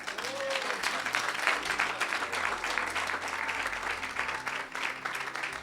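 Church audience clapping during a deliverance service, a dense, continuous burst of applause with a voice faintly mixed in.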